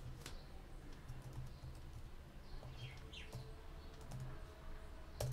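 Faint, sparse key taps on a computer keyboard in a quiet room on an Ubuntu Linux machine, a handful of separate clicks spread unevenly over a low background hiss.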